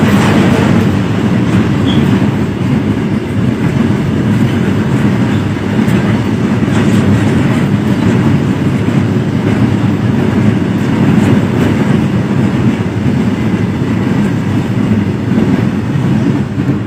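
A train passes close by with a loud, continuous rumble and rattling wheel clatter that stays strong for the full stretch, with no talk above it.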